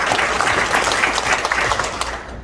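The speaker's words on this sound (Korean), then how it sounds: "큰 박수 부탁드리겠습니다" An audience at a residents' briefing session for the Beomeo Jugong redevelopment gives a steady round of applause, dense, close and even for a couple of seconds before thinning slightly at the end.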